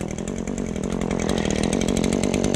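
An Echo PPT-2620 gas pole saw runs at a steady buzzing idle-to-mid throttle, loud and close, on a trail-clearing outing, with no talk.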